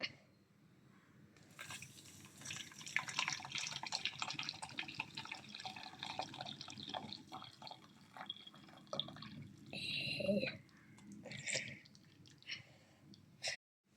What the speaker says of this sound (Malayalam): ഇപ്പൊ നമുക്ക് ചായ മിക്സ് ചെയ്യാം.